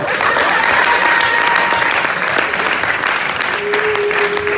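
Loud, sustained applause from a comedy show audience clapping together, a dense and even wash of hands that holds steady with no voices on top.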